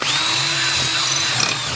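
Power drill fitted with a 1/4 inch metal bit boring into a nut clamped in a vise, a loud steady high whine running continuously, close up with no talking.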